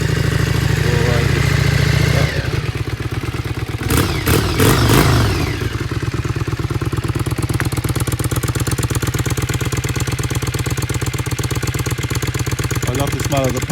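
A Yamaha Virago XV535 motorcycle engine idles loudly up close, warming on choke with a steady rapid thumping beat, a brief throttle blip partway through, and a voice talking over it.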